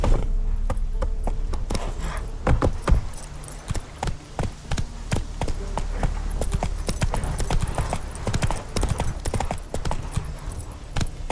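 Hooves of Roach, the horse in The Witcher 3 video game, clip-clopping at a brisk steady rhythm, loud and close, with continuous repeated hoofbeats and no speech.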